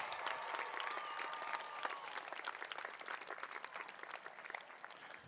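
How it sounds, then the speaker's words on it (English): Applause for a graduate at the University of Northern Colorado spring commencement, a sustained, fairly distant patter of many hands clapping in a large hall, fading slightly toward the end. "Let's give him another round of applause."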